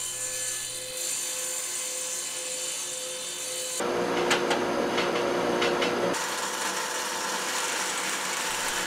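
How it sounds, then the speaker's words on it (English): A power tool cuts glued plywood flush, backed by clamped scrap pieces. It gives a steady whine, then louder grinding for a few seconds in the middle before easing back to the whine. "I'm just going to cut the whole thing off, make it flush."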